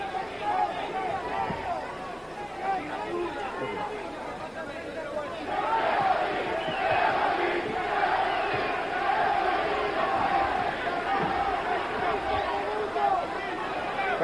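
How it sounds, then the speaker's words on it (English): A boxing arena crowd chanting for Eddie Mustafa Muhammad as the fight with Victor Galindez nears its end, a broad swelling roar of many voices that builds midway, with a commentator talking over it. "Crowd chanting for Gregory again."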